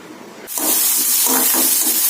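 Chopped onion for mint chutney hits hot oil and erupts into a loud, steady sizzle that crackles on without pause, close by.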